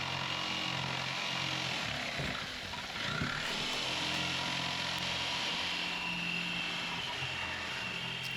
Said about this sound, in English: It's always hard to manage the cord on this jigsaw when it's going around in a circle.